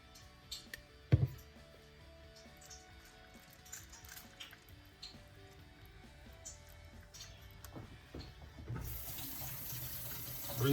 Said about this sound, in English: Rinsing my brush.